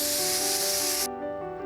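A pressure cooker of mutton kulambu lets off steam in a loud, steady hiss that cuts off abruptly partway through, leaving a faint tonal hum from the kitchen.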